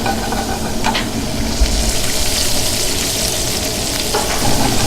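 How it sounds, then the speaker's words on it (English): Fresh colossal asparagus, peeled for tenderness, sautés in a hot pan with a loud, steady sizzle and crackle that holds evenly throughout, with occasional stirring noises. "We're going to quickly saute off the asparagus, which I already have ready to go."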